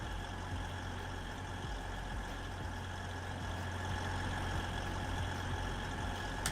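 A train engine in the Roblox game SCR drones steadily with a low, heavy rumble and constant tonal hum, loud and unbroken throughout.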